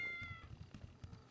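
A cat meows repeatedly inside the video game GTA 5 roleplay, a series of faint mews heard over a low background hum.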